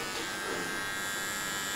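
An electric hair clipper buzzes steadily up close while cutting hair in a zero-cut haircut, a continuous high, even drone with no pauses.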